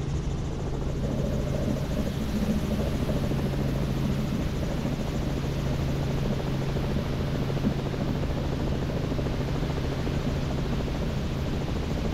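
A Robinson R44 helicopter in flight during autorotation training, heard from inside the cabin as a steady, loud rotor and engine drone with a constant low hum and broadband rush, no talk.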